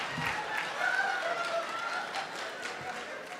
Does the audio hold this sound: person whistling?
no